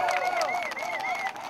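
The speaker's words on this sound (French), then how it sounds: "On applaudit pour ça quand même." Crowd applauding at a rally in The Hague, continuous clapping and cheering mixed with raised voices, moderately distant.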